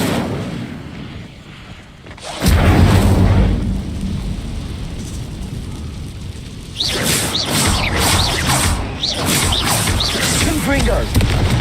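A fiery Incendio spell is cast in the Hogwarts Legacy video game, with a loud burst after a quiet stretch followed by crackling, popping blasts and further spell impacts layered over game music.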